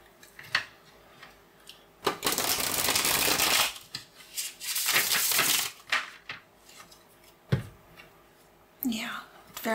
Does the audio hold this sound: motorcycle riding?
no